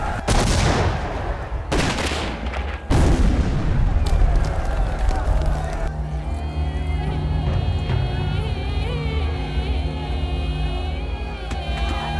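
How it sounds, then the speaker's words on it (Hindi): Heavy gunfire from both sides in an action film: loud bursts of shots and explosive blasts crowd the first few seconds, then give way to a sustained droning, ringing scene ambience with scattered impacts. "दोनों तरफ से गोलीबारी जारी है।"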